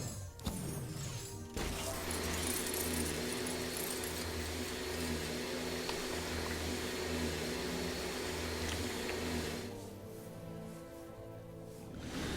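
A vacuum cleaner in the Lego Harry Potter Years 5-7 video game gives a steady, droning whir that starts abruptly, holds for several seconds and then drops away, over faint game ambience.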